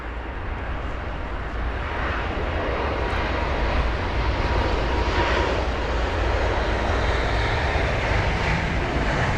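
An Airbus A321neo roars on departure from London Heathrow runway 27 right in wet conditions, a loud, steady broadband engine rush heard close and continuous throughout, with no voices.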